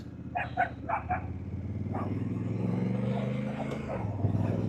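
A dog barks in several quick bursts over a steady motorcycle engine drone, then keeps yapping more faintly as the motor noise continues.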